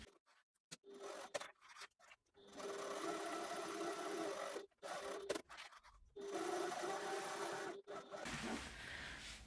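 A sewing machine quilts a fabric panel for a bottle sling in several bursts of fast, steady stitching, separated by brief pauses and faint rustling of fabric.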